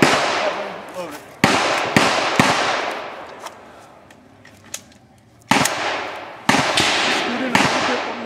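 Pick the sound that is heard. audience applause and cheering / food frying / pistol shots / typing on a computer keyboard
pistol shots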